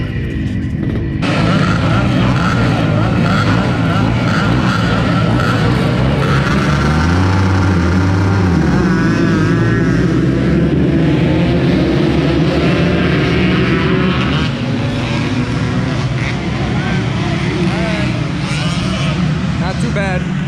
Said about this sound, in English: That's a full gate of vintage bikes right there.